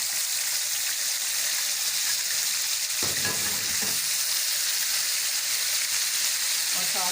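Eggplants dropped into hot oil in a wok for stuffed masala baingan set off a loud, steady sizzle that flares with stirring partway through and keeps frying close up without a break.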